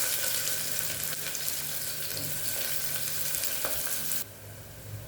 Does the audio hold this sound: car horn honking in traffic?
no